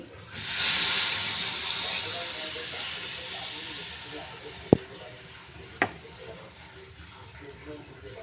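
Milk pours into hot fried masala tea with a loud rushing hiss that slowly fades, followed by two sharp clinks of utensils against the vessel.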